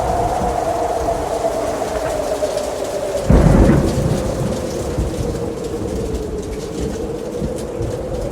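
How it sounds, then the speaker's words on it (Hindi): A thunderstorm over a forest, with steady heavy rain and a low rumble, then a loud crack of thunder rolling midway before fading back into the downpour. "तूफान हमारे घर तक पहुंच गया है।"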